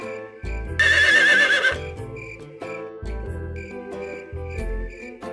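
A horse in an animated Hindi story gives one loud, shrill, quavering whinny lasting about a second, over steady background music with no talk.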